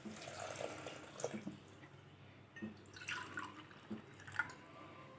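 Water drips and trickles faintly into a cooking pot, with soft intermittent splashes over a quiet background.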